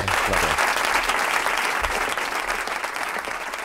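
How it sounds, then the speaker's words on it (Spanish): A TV studio audience applauds a guest on a Spanish comedy show, thick sustained clapping from a crowd that stays loud and close, easing slightly toward the end. "un aplauso para Héctor de Miguel, cronista local"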